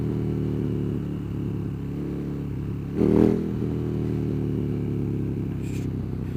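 A KTM Super Duke 1290 R motorcycle rides along with a steady, close mid-pitched engine drone, broken by one brief surge partway through as gears shift, then settling back to an even hum.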